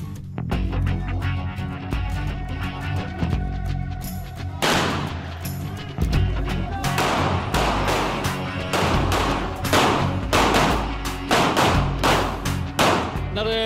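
Repeated gunshots from police special intervention unit training on a shooting range, fired in quick irregular bursts and single cracks, loud and close throughout.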